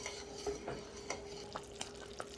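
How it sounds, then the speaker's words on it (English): A spoon stirs a thick, caramelizing pecan candy mixture in a pot over raised heat, scraping in soft repeated strokes with faint bubbling beneath, close and fairly quiet. "I turned the heat up a little bit. That means I have to constantly stir because it will boil over."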